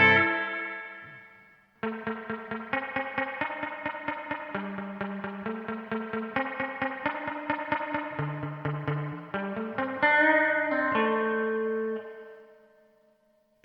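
A guitar played through a Hotone Verbera effects pedal at a neutral setting: an opening chord rings out, then a run of quick picked notes and a final sustained chord with echo and reverb that fades out, without speech.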